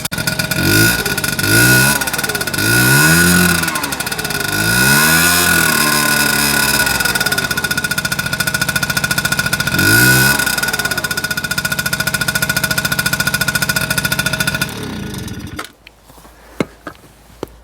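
A two-stroke motorcycle engine with an air leak idles and revs loudly in rising and falling surges, then cuts out abruptly near the end, leaving faint clicks and ticks.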